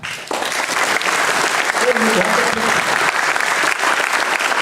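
A student audience claps together in a clap-stop game, a loud sustained wash of applause with crowd murmur and a voice speaking over it.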